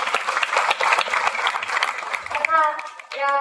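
A crowd at a village kirtan gathering in Kajirda claps loudly in a dense, sustained burst. It thins near the end as a voice begins speaking or chanting over it.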